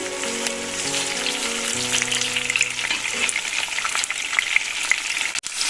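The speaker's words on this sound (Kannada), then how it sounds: "ಈ ಥರ ನಾವು ಆಯಿಲಲ್ಲಿ ಫ್ರೈ ಮಾಡಿದ್ರೆ ಕಡಾಯಿ ಪನ್ನೀರ್ ತುಂಬ ಟೇಸ್ಟಾಗಿ ಬರುತ್ತೆ" Paneer cubes frying in hot oil in a kadai, with curry leaves added, give a steady, dense sizzle and crackle that runs throughout at close range, with no talking.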